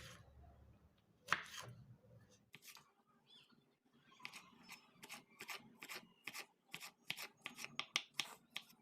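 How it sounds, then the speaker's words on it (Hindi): Rapid knife chopping of tomato on a board, a steady run of crisp, close taps that speeds into an even rhythm after a few scattered cuts. "टमाटर को बारीक टुकड़ों में काटेंगे।"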